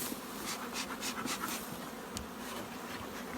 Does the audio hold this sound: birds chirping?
no